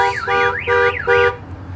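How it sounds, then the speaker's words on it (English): A 1998 Hummer H1 hard top's car alarm going off nearby, a loud warbling electronic siren cycling up and down in short repeated bursts before cutting out. "Guess I got too close to it, or actually bumped the alarm button"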